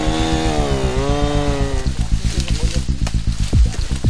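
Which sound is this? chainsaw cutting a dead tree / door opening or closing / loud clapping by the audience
chainsaw cutting a dead tree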